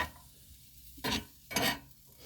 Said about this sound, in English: I'm just sauteing my veggies up